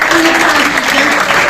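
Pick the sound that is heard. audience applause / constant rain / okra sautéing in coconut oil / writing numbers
audience applause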